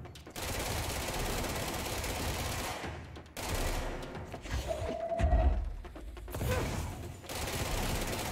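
Rapid gunfire in the video game Control, dense bursts of automatic shots in sustained volleys broken by short pauses, with mechanical clanks and a glassy crash mixed in, loud and close.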